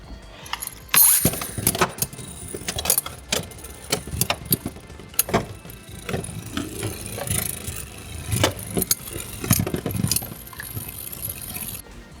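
3D printed custom Beyblade tops with a gargoyle bearing clash in a metal stadium, giving repeated sharp metallic clacks and scrapes over a steady whirring spin, loud and close.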